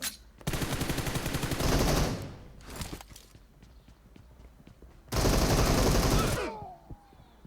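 Rapid bursts of automatic gunfire from a Naruto video game, two loud sustained volleys separated by a short burst and scattered single shots, close and without talk.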